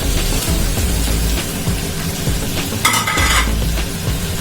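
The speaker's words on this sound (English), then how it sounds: "Let it become golden brown color. After frying the onion" Onion and chili sizzling in a pan of hot oil, a constant loud frying hiss with occasional stirring scrapes and clinks of a utensil against the pan.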